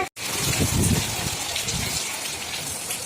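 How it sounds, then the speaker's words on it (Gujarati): Heavy rain with hail pours down in a dense, continuous roar during a summer thunderstorm, loud and steady throughout. "ફૂલ વરસાદ આવે છે"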